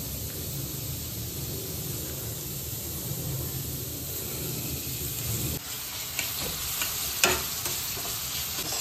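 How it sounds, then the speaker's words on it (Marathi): Continuous close sizzling of onions frying in a kadai until browned, with occasional scraping and stirring clicks toward the end. "कांदा लाल व्हायपर्यंत कांदा लाल व्हायला पाहिजे ना"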